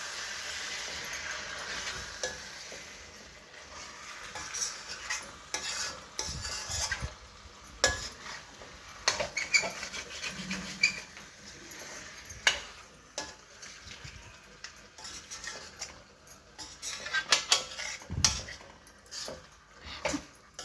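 Chicken fry stirred in a pan after resting under a lid, with repeated scraping and clinking of a utensil against metal over a low background sizzle, close and uneven.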